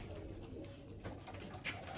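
Pigeons cooing softly at a loft as birds land one after another, a low continuous murmur of coos with faint wing flutters and a brief sharper flap near the end.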